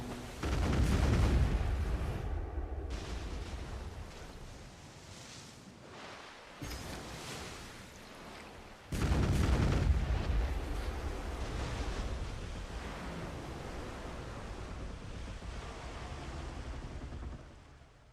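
Ship cannons firing in Black Desert Online: two heavy booming blasts spaced several seconds apart, each followed by a rumbling roar that fades into surf and wind noise.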